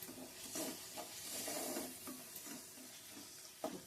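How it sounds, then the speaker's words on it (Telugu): Crab curry masala fries and sizzles in a pan while being stirred, giving a steady hiss with soft scraping strokes and a sharper clack near the end, fairly quiet and with no voices. "ఈసారి మొత్తం అంతా కలిపి ఒకసారి వేపుదాం."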